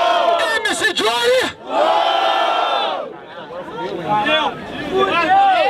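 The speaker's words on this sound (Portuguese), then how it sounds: "Barulho quem no terceiro round preferiu a rima do MC Johnny" A crowd at the Batalha do Tanque street rap battle in São Gonçalo roars and shouts for an MC, with loud, sustained massed yelling that dips briefly and then surges again.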